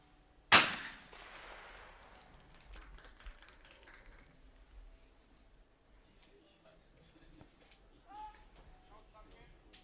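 A single loud shotgun blast rings out at a women's trap shooting final and decays quickly. Faint crowd noise and announcer talk follow, then a softer knock later on.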